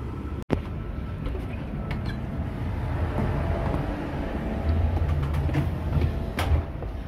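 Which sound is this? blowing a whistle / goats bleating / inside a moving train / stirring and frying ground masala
inside a moving train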